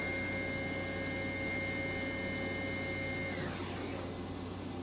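A 2013 Kitamura HX250G CNC machine with a 15,000 RPM spindle runs at 9,000 RPM, a steady whine with a constant hum underneath, fairly quiet and continuous, shifting slightly near the end.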